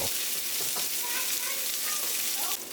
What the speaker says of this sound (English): I'm going to sear the sides of it